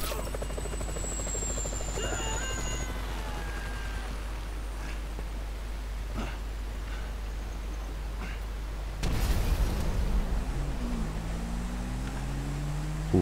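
A helicopter in GTA 5 thrums steadily through a rough game mix, with engine drones and scattered gunfire-like thuds, and a louder burst of noise and rising whine arriving near the end.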